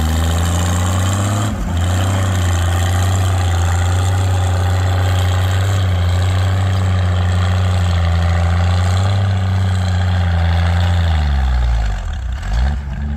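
A tractor engine labors steadily while pulling a 4 bottom slat plow, with a loud constant low drone that dips and surges near the end, close up and with no voices.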